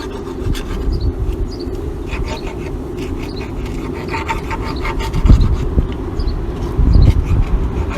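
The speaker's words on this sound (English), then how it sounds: "I've just got a file in here at the moment, going around in circles, taking a little bit of the burr off the bottom edge" A metal file rasps in circles around the bottom edge of a Fordson tractor steering bushing, taking off the burr in repeated scraping strokes, loud and close, with heavier strokes toward the end.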